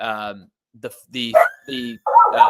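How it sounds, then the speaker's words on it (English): A pet dog barks several times in quick bursts, close to the microphone in a quiet room, with short yips between louder barks. "you can hear my dog"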